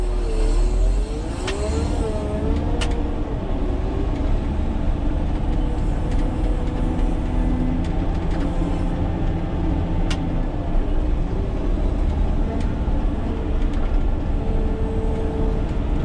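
Caterpillar 120K motor grader rolling slowly in fifth gear, a loud steady diesel drone with shifting engine tones and occasional rattles, heard close from the cab without speech.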